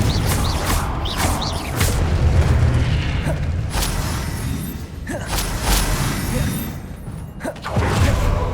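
In Hogwarts Legacy, a Confringo blasting spell goes off amid combat, with loud booming explosions and debris over continuous rumbling action and sharp impacts.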